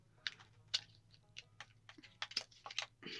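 On-screen keyboard typing in Stardew Valley on Nintendo Switch while naming a farm, a quiet, irregular run of small ticking clicks, close and soft, with no talk over it.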